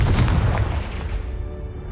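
A single Confringo spell explosion in the Hogwarts Legacy video game gives a loud, deep, rumbling boom that fades briefly within two seconds, heard up close with no voices.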